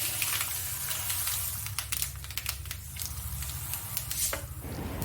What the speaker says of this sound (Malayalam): വെളിച്ചെണ്ണ മൂത്തിട്ടുണ്ട് നമുക്കിനി കടുക് കൊടുക്കാം